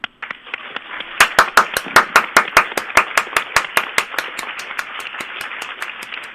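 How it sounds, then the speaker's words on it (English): A small group claps, a quick run of sharp, steady hand claps that starts suddenly and keeps a fairly even rhythm, loud and close. "let you hear our applause through space to ground"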